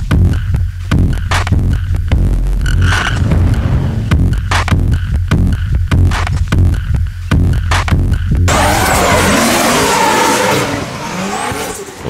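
A car drifts on a city street during a film shoot in Latvia, its engine throbbing loud and close in repeated revs before a long, harsh tire squeal takes over.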